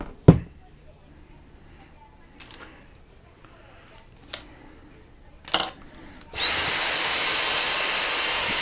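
Vacuum cleaner switched on partway through, its loud steady broadband roar starting abruptly after several seconds of quiet with a few scattered clicks and thumps from handling an IKEA table box.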